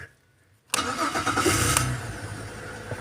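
A Holden VZ Commodore engine cranks and fires after a quiet start, then settles into a loud, steady idle close by.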